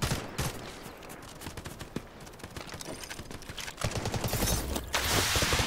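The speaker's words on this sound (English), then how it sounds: "Other players shoot them" Gunfire in the shooter game Delta Force Hawk Ops crackles in dense, rapid bursts of overlapping shots, with a near automatic volley building louder toward the end.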